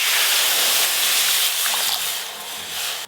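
Water pours steadily into a pan for boiling moong dal, a continuous splashing rush that stays close and fairly loud before tapering slightly toward the end.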